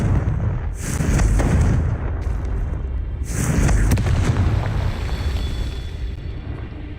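Two heavy booming blasts from the Confringo fire spell in Hogwarts Legacy, each a loud rumbling explosion a couple of seconds apart that trails off into a lingering low roar.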